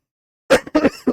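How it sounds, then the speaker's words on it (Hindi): A man's coughs during a spoken class, three to four short harsh bursts close to the mic after a moment of silence, heard alone. "खांसी तेज आ रही है।"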